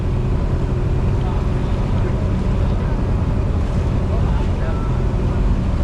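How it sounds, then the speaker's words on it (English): A ferry crossing to Boracay Island in the Philippines drones loudly and steadily, engine rumble mixed with wind and water rush buffeting the microphone throughout. "Ferry to Boracay Island is only about a 15-minute ferry ride."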